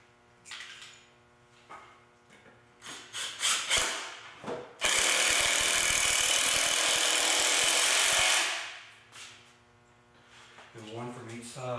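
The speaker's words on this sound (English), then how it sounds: "we're going to be using the 3-inch screws again for this step" Power drill driving 3-inch screws into the base of an 8-foot wooden workbench, a sustained loud drive lasting several seconds after shorter bursts, with a voice talking in the gaps.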